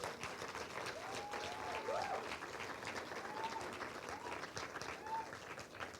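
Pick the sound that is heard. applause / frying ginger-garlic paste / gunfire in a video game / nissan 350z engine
applause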